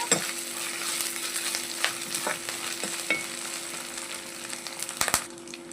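Coriander and mint leaves fry and get stirred in a pan, a steady soft sizzle broken by scattered sharp scrapes and clinks of the spatula, with a louder clatter near the end.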